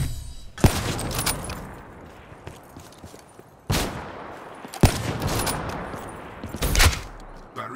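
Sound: gunfire, firing for effect

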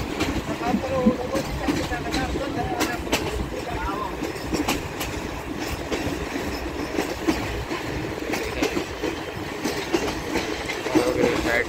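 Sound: Pakistan Railway Khyber Mail express train approaching station

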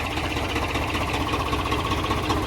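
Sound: tractor engine idling

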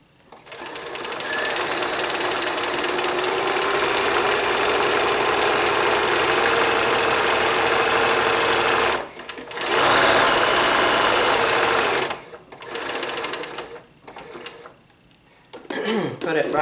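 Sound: sewing machine doing zigzag stitch

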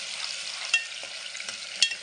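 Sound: sautéing ground onion and tomato paste in a pan

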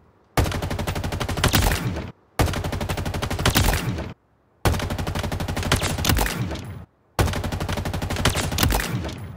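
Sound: assault rifle gunfire in video game Halo Infinite

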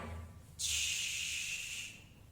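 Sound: voice imitating the sh consonant sound

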